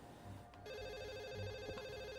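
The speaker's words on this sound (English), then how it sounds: "Oh, there's a phone call." A telephone rings with a rapid warbling electronic trill that starts after a brief thump and keeps going, fairly faint and with no talking.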